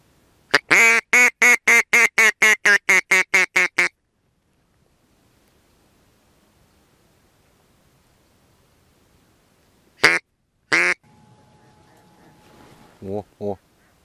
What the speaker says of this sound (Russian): И утка там тоже.